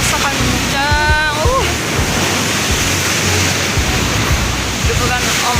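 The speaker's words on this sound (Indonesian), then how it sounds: "Deburan ombaknya pun kerasa banget." Ocean waves crashing at Kukup beach in Gunungkidul, heard from high above on a windy clifftop: a continuous, loud roar of surf with wind buffeting, and a person talking at times.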